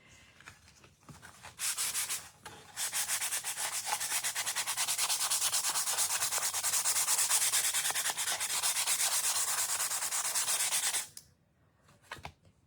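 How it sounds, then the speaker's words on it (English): Birch plywood is sanded by hand with 220 grit sandpaper, a loud, close, continuous rasping scrub lasting about nine seconds before stopping abruptly. "because I use birch ply, I'm going to sand with 220 grit sandpaper."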